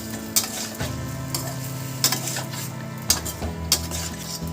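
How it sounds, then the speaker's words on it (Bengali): Fish, potatoes and spices stirred in a frying pan for a Bengali aar fish curry, sizzling steadily with repeated scrapes and clinks of a utensil against the pan, close and clear with no talking. "এবার একটু নাড়াচাড়া করে নেব মাছ, আলু, মশলাগুলো।"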